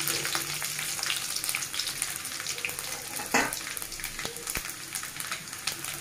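Garlic, mustard seeds, cumin and dry red chillies sizzle and crackle steadily in hot oil for Telangana-style cooking, with a few sharper pops and a brief stirring scrape midway.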